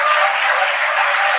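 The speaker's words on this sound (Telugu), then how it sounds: "నోటితో స్తుతిస్తూ చప్పట్లు కొట్టండి." A church congregation claps hands together in praise, a dense continuous patter of many hands, loud and close, with no talk.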